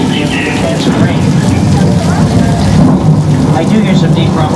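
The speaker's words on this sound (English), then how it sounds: "This thunder and lightning is normal for this time of the year." Simulated thunder and rain pour down on a Universal Studios tram ride, a loud, dense rush of falling water with low rumbling underneath, steady for several seconds.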